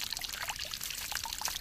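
Liquid pours in a steady, close trickle while a watermelon milkshake is being made, a short continuous splash with no voices over it.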